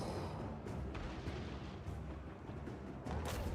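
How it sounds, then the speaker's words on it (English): Mortars fire in a Total War battle, giving a dense, rumbling barrage of distant booms and blasts that rolls on steadily with no pause, fairly faint overall. "Well, those are mortars, so surely we can take those out, right?"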